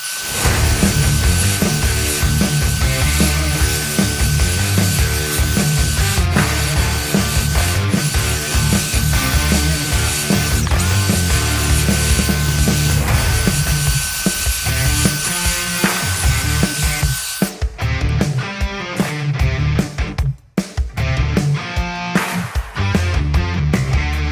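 A loud, steady motor whine from a Dewalt DCMBL562 battery leaf blower clearing leaves off a road runs continuously with a broad rushing hiss, then drops and sputters near the end as it cuts out.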